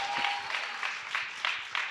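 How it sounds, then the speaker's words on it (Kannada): A church congregation claps hands in praise, steady rhythmic claps about every third of a second, moderately distant with a soft room wash. "ಕೈ ಚಪ್ಪಾಳೆ ಹೊಡೆದು ದೇವರನ್ನ ಸ್ತುತಿ ಮಾಡು."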